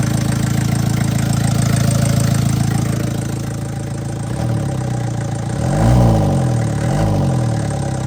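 A MK1 Ford Transit van engine idles steadily after a fuel system overhaul, a loud close rumble that dips slightly midway and then rises in a brief surge before settling back to an even idle.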